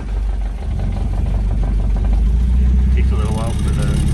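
A Land Rover engine fitted with a Rochester B carburetor runs after adjustment, a loud, steady, close idle rumble with someone talking over it.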